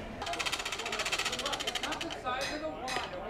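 The blower on a wood-framed coal forge runs loud and knocky, a rapid rattling pulse close by, with a voice talking over it.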